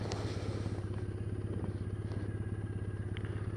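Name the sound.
Triumph Bonneville T214 motorcycle engine running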